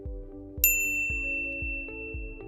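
A bright notification bell dings once with a clear, ringing tone and long decay over a steady rhythmic musical backing, with no voices.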